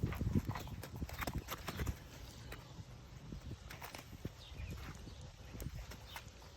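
Horse hooves clopping at a walk on hard ground, a steady uneven rhythm that is louder at first and then softer, with faint background noise.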